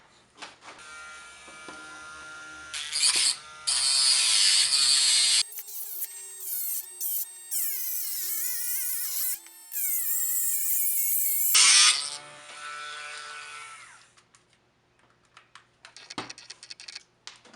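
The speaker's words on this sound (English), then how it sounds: "I'm going to Dremel tool and take these off real quick" A Dremel rotary tool with a cutting blade cutting off model railway track points, coming in several loud whining bursts with a steady tone and gaps of near silence between cuts.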